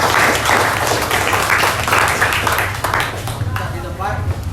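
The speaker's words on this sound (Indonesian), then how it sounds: "Oke, tepuk tangan." Classroom audience clapping after a mock courtroom trial at a secondary school, a busy patter of hands under talk and chatter that runs throughout and softens toward the close.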